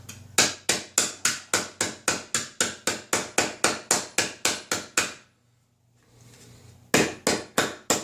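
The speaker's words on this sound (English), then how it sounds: "Now, men have been hammering copper like this for centuries." Copper sheet being hammered on an anvil block, sharp metallic strikes in a steady rapid rhythm, close and loud, a pause of about two seconds, then the blows resume.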